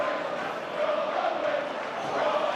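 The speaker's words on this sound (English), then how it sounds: "the crowd are baying for a forward pass here" Rugby league stadium crowd at a Super League match between Warrington and Leeds, a broad continuous roar of thousands of voices swelling and baying in the distance, steady and dense with no clear single voice.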